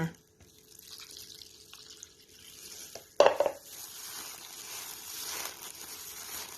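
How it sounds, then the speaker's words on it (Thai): Flour batter being stirred with coconut milk in a bowl for Thai palm sugar cake, soft faint scraping and swishing, broken by one sharp clunk against the bowl midway. "ผสมให้เข้ากันอย่างนี้เลยนะคะ"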